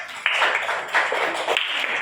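A group claps together in a steady, dense patter of applause, fairly close and continuous throughout.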